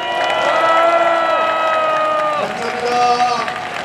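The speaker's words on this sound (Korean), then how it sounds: "감사의 뜻으로 박수를 한번 올려주십시오" A large outdoor crowd at a Save Korea prayer rally in Yeouido, Seoul, applauds and cheers loudly and steadily for several seconds, with sustained voices and shouting mixed through the dense clapping.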